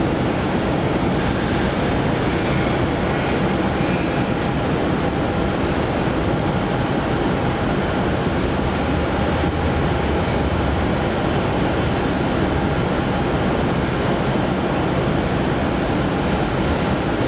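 An airplane lands at Melbourne Airport with a loud, sustained roar of jet engines and rushing air that fills the entire stretch without letup, heard alone with no talk.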